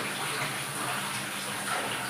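Water running from a tap in a home kitchen, a steady close rushing splash holding at an even level throughout with no talk.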